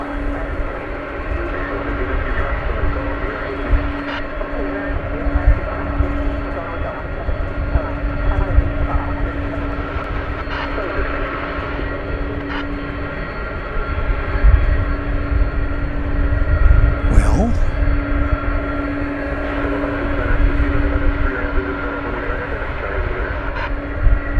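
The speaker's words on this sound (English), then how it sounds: "That's a long-distance look at the American Airlines flight off to Buenos Aires." An American Airlines jet takes off from DFW Airport bound for Buenos Aires, a distant low steady engine roar that swells gradually and rumbles on for over twenty seconds amid outdoor background noise.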